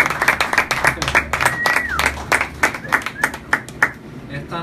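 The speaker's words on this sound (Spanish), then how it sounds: "Un aplauso para él" A small audience claps for a gallery owner at an evening talk, sharp irregular handclaps close by that thin out toward the end, with a voice speaking briefly over them.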